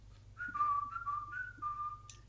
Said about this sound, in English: I can whistle three or four different ways